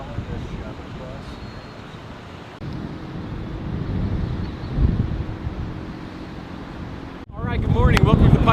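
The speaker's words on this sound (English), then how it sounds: "It's a windy morning." Strong gusting wind buffets the microphone on a mountain morning at the Pikes Peak International Hill Climb, a continuous rumbling roar that swells and dips, with voices murmuring faintly underneath.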